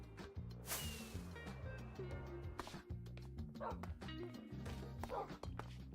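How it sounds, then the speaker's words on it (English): A dog in the video game Minecraft Survival 1.21 barks and yips in a quick series of short repeated bursts, fairly quiet overall, with no talk over it. "Why is my dog here?"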